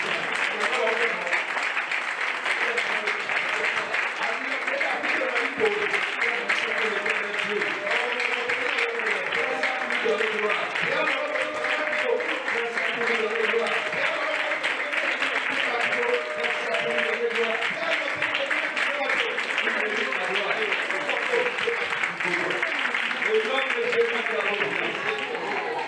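A church congregation applauds in acclaim of the Lord, a loud, dense, sustained wave of clapping from many hands, mixed with voices and cheering throughout.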